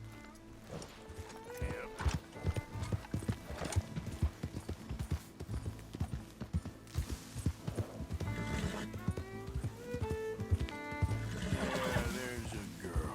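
Horse hooves clip-clop at a gallop in Red Dead Redemption 2, a steady rhythmic pounding with occasional whinnies over game music, close and loud, with brief speech.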